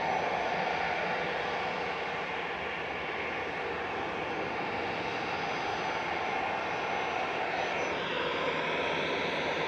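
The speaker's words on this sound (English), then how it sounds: "Whiskey Delta departing now, GZWD heading to Lyon with flight 2119, A320 Classic" An Airbus A320 Classic jet departing Manchester Airport for Lyon gives a steady, dense roar of engine noise, even and sustained for the whole stretch, with no voices.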